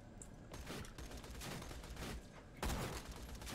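Rapid automatic gunfire in the video game Borderlands 2, dense bursts of overlapping shots rattling continuously, loud and close, with a heavier blast near the end.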